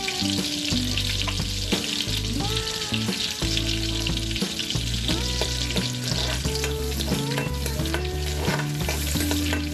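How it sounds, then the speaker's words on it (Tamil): Whole garam masala spices fry in hot oil for pav bhaji, making a continuous crackling sizzle with occasional stirring, heard under background music. "கரம் மசாலா பொரிஞ்சிருச்சு."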